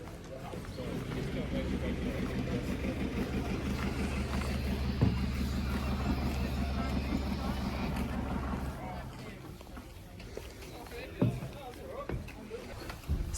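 A water taxi boat approaching on the water along the Abel Tasman coast, its engine a steady loud drone for about nine seconds before easing off, with a few thumps and people talking faintly nearby.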